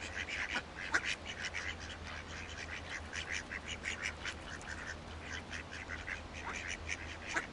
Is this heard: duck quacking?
yes